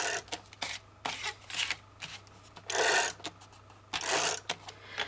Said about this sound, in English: I'm going to use a tape runner like this.